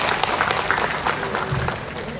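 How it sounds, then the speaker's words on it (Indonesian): Audience applause for the head of the Jambi city health office, a brief steady burst of many hands clapping together, dense and even from start to finish. "Tepuk tangan dulu untuk Bu Kadis ya."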